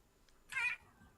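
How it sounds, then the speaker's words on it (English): A single cat meow rises clearly over a quiet background, short and fairly close, with no talking around it. "Yeah, that's a cat."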